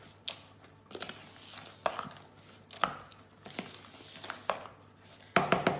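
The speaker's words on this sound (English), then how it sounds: "And then you're just going to stir it together." A spoon works mixed fruit or chocolate into a stiff mixture in a bowl, making a series of irregular dull knocks and scrapes, with a quicker cluster of taps at the end.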